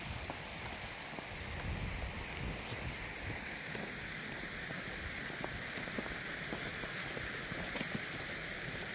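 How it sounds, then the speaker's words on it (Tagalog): Heavy rain falls with a dense, steady hiss and patter of drops hitting surfaces outdoors, continuous and fairly distant-sounding, with no voices. "parang lumakas yung ulan."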